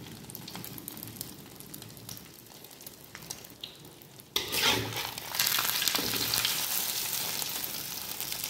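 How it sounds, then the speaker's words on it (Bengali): An egg frying in oil in a pan, a quieter crackle at first that jumps into a loud, dense sizzle halfway through and stays bright and close, with no voices. "ডিমটা ভাজবো।"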